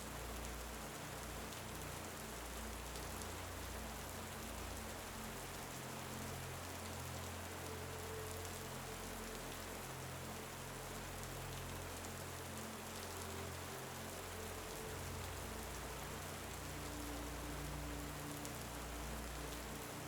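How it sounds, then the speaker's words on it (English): Steady rain falling on a surface, a continuous soft patter with a low rumble beneath, even and unbroken throughout, with no voices. "Listen to the sounds of the rain"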